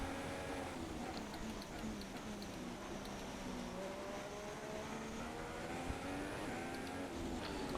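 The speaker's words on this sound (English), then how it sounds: "I just love that downshifting noise, like, it just sounds so realistic" F1 2016 video game race at the Australian GP, a Formula 1 car's engine whining through rising and falling gear changes with downshifts, steady and close with other cars faintly audible.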